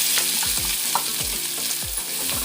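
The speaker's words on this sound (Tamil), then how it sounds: "வெங்காயம் நல்லா வதங்கட்டும்." Onions sautéing in hot oil with fennel seeds in a kadai, a constant close sizzle with the spatula scraping and knocking the pan roughly every half second, no talking.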